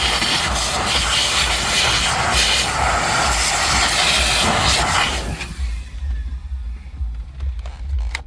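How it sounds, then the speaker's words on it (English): A car-detailing air blower roars as it dries a vehicle's cup holders, a loud, steady rushing blast that drops away abruptly near the end, leaving faint residual noise. "Always have the blower on, you guys."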